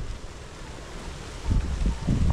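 Wind gusts across an open farm, rumbling against the microphone as low buffeting that swells stronger in the last second.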